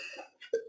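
One short cough from a person with a cold, close and fairly quiet, heard alone with no talking around it.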